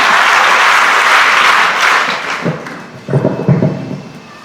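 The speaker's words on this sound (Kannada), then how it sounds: "ಚಪ್ಪಾಳೆಯಲ್ಲಿ ಅವರ ಸ್ವಾಗತವನ್ನು ಮಾಡೋಣ" An audience at a government school event applauds to welcome a speaker to the stage, a dense burst of clapping that fades after a few seconds and leaves scattered thumps behind.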